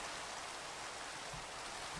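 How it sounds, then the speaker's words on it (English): Steady Minecraft rain hisses as a soft, even wash of falling drops, faint and continuous with no voices. "let's get this rain out of here. It rains all the time."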